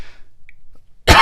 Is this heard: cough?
yes